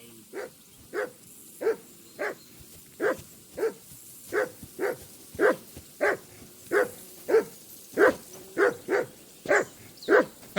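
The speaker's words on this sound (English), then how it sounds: "call that dog to heel" A dog in Kingdom Come: Deliverance 2 barks repeatedly at a riverbank camp, about sixteen evenly spaced, moderately close barks in a steady rhythm with no talk over them.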